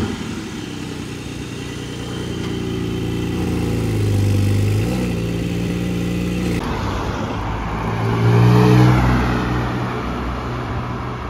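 A sports car's engine revs twice in the street at Gérardmer, each rise swelling from a steady idle into a louder, climbing roar, heard up close without speech.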